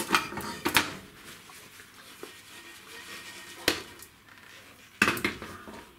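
A cooked dal pot is set down and shifted after the stove is switched off, giving a few sharp metallic clanks and knocks. The clanks come in two brief clusters with quieter kitchen handling between them, and no one speaks.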